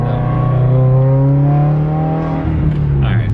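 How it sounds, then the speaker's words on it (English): A tuned car with a catted downpipe drones loudly and close as it downshifts, the engine note sliding lower and then rising again near the end, with no voices over it. "Let's see a little downshift. It still sounds good though."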